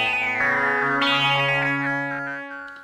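Prophet 600 synth patch using filter FM from the polymod section, a bright, distorted chordal tone with a shifting timbre that jumps brighter about a third of the way in and then fades out gradually.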